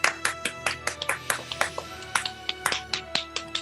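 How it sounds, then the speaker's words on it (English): Audience clapping at an open mic event, a scattered group of distinct claps at a moderate distance with a steady, uneven rhythm over about four seconds, with no voices. "Give them a massive round of applause first."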